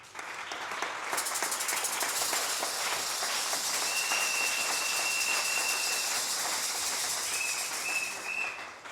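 A church congregation bursts into sustained, dense applause and cheering, loud and close throughout, with a few sharp whistles piercing the clapping partway through.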